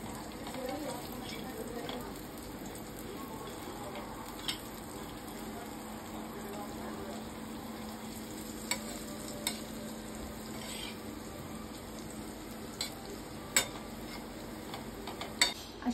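Yam (suran) slices frying in a pan give a steady, moderate sizzle, broken by a few sharp clicks and scrapes as pieces are flipped with a utensil.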